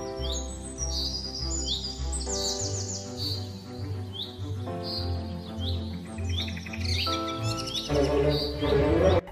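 A cartoon pigeon in an animated story calls with a run of bright, repeated chirps and tweets over a soft musical backdrop, getting busier toward the end.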